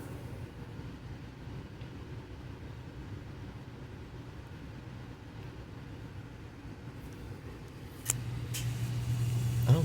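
Interior rumble of a moving passenger train, a steady low droning roar with faint rattles, growing louder and rougher near the end.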